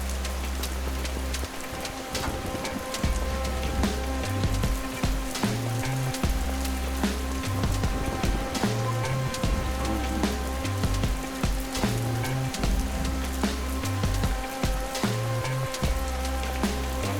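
Steady rain patters on a surface for the whole stretch, a dense continuous hiss with scattered drops, while a low rhythmic thumping, probably music, runs underneath and nobody speaks.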